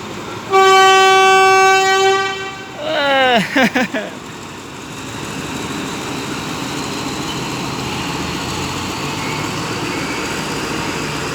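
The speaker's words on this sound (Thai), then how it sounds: "ขบวนรถธรรมดาที ่ 254 ครับ ก็กำลังจะออกจากสถานีรถไฟชุมทางตลิ่งชันแล้วนะครับ" Thai ordinary passenger train No. 254 at Taling Chan Junction station, Thailand, sounds a loud, sustained horn blast followed by a shorter, wavering horn call, then a steady rumble of railcars and station ambience.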